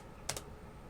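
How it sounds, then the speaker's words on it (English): Two quick, close keystrokes on a computer keyboard while typing a terminal command, a brief double click in an otherwise quiet room. "I'm going to type in clear now to clear that out."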